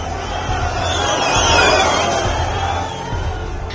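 Loud crowd of local residents and Hindu organisations protesting in Shimla, a dense roar of many voices swelling and fading with no single speaker standing out.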